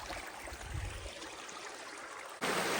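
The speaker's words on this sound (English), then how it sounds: "I think I found the other waterfall." Water from a waterfall near a stone sheepfold in Northumberland, a faint steady rushing stream that turns suddenly louder near the end.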